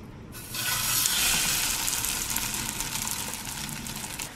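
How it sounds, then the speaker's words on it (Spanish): A vegetable burger patty sizzles and fries in a pan with a little oil, a steady crackling hiss starting after a short quiet moment and continuing strongly throughout. "voy a hacer las hamburguesas para pasarlas a un sartén con un poquito de aceite"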